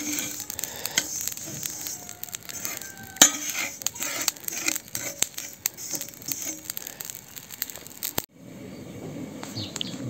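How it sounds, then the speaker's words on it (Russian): Oil seethes and sizzles steadily in a kazan on a wood-fired stove, dotted with sharp pops and a few faint metallic taps, close and moderately quiet, briefly cutting off near the end before the bubbling resumes. "Масло закипело уже."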